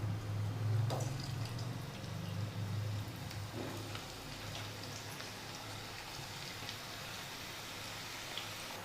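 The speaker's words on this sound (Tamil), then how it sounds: "நல்லா கிறிஸ்பி ஆகிற வரைக்கும் நீங்கள் நல்லா பொரிச்சுக்கணும்" Onion pakoda frying in oil, a soft, steady bubbling crackle like light rain, continuous and fairly faint, with a low hum beneath.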